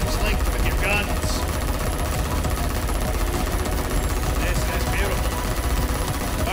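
Gunfire from weapons in the video game Terablaster, rapid bursts of shots layered over a dense, busy game soundscape with steady energy throughout.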